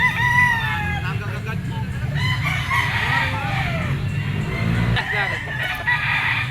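A golden bull stag gamecock of claret bloodline with yellow legs crows repeatedly at close range, each call rising and falling, with other roosters clucking and crowing around it over a low background hum at a fowl sale.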